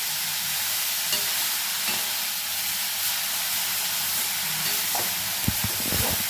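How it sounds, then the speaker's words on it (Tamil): Carrots for carrot halwa sautéed in a pan, a continuous loud sizzle and hiss with occasional soft scraping knocks of the stirring spoon; no talking. "நல்லா வதக்கி விடுங்க."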